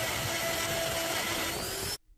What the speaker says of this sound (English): I'm grinding the final shape of handle size, but still need to remove excess material for finger grips.